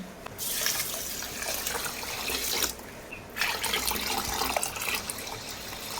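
Tap water runs steadily into a pot of rice being soaked for biryani, a dense, continuous rushing splash close by with one brief dip where the flow is interrupted.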